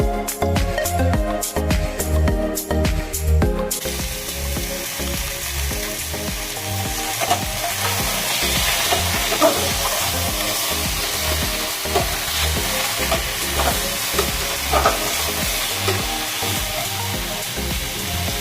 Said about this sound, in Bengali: বাড়িয়ে দিয়ে আমি এর মধ্যে চিকেনগুলো দিয়ে দিলাম